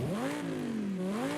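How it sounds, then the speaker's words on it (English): Rebuilt, upgraded BMW M3 in Forza Horizon 5 revving briefly, a close engine note that climbs, dips and rises again in one smooth surge, with no voices. "Our BMW M3 from Most Wanted is rebuilt and upgraded also. Let's listen to it now."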